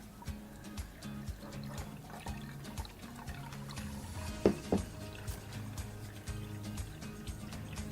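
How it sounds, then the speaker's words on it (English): Water poured over ground coffee in a Mizudashi cold brew pot, a faint trickle set against a steady background hum, with a couple of brief clinks near the middle. "we're going to add the rest of our coffee and water"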